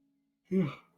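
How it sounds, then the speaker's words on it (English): One short, breathy exhale like the tail of a yawn comes from close by and trails off quickly after a faint tone. "Sorry for the yawn."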